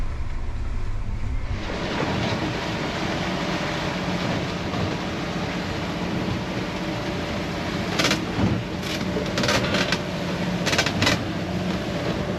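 Big ocean swells rolling under a boat heading out through a cut off Bimini after storms: a steady, dense roar of water and wind buffeting the microphone, continuous and close, with no talking.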